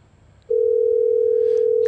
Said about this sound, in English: Okay, we have a dial tone.